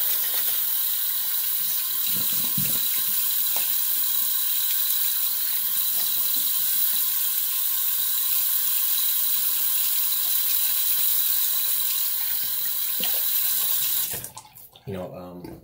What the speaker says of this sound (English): Okay. Rinse off.